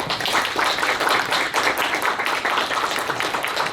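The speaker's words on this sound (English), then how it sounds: "give a warm round of applause to the man whose artistic vision created the PaRappa series" An audience at Empire Game Expo 2019 gives warm applause for Rodney Greenblat, the artist behind PaRappa the Rapper. The clapping is dense and steady, with no voices over it.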